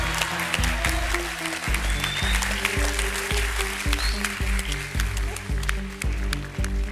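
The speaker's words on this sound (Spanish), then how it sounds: "Un aplauso." A studio audience applauding on a television talk show, sustained clapping layered over loud, rhythmic music with a heavy repeating bass beat.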